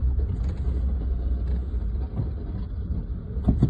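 A vehicle pulls out onto the road near the Khanna bus stand, a low, continuous engine rumble close by with a few faint knocks and thumps.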